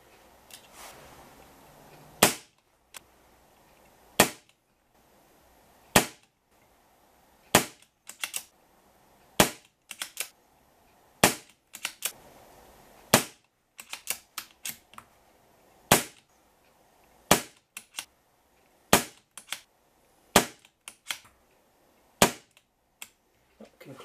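An air rifle fires .177 Thunderbolt pellets over a chronograph in a steady series of about eighteen sharp, close cracks, a couple of seconds apart, with small mechanical clicks from reloading between shots.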